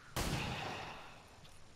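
A single gunshot rings out in the strategy game XCOM 2: War of the Chosen, a sharp broadband crack followed by a decaying tail that fades over about a second and a half, heard alone without talk.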